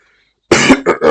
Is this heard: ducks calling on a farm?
no